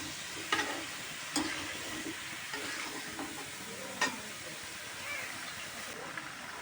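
Bottle gourd curry ingredients are stirred in a hot pan, giving a quiet continuous sizzle with a few sharp knocks and scrapes of the spoon against the pan.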